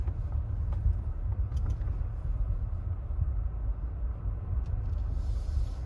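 A 2017 Mercedes-Maybach rolls slowly while turning around, producing a low, smooth engine hum and road rumble that stays steady and subdued with no talking.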